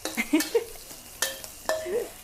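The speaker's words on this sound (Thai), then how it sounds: "ผัดกุ้งแห้งกับกระเทียมก่อนนะคะ ให้กลิ่นหอมก่อนค่ะ" Dried shrimp and garlic sizzle in a hot wok over high heat, with short bursts of stirring and spatula scrapes against the pan, close and moderately loud.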